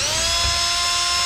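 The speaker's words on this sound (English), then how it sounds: "I'll take this wire brush and drill and clean all this up" A wire brush spun by a drill scrubs around the lip of a Hyundai Elantra's broken rear suspension, giving a steady, close, high-pitched whirring grind.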